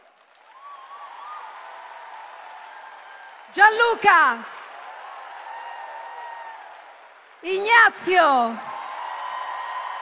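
An arena audience at a concert applauds in a low, steady wash, broken by two loud bursts of yelling and whooping. The bursts sound like fans shouting names.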